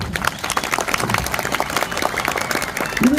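An audience, mostly women, claps steadily in a quick, continuous patter of applause lasting a few seconds, fairly close and moderately loud.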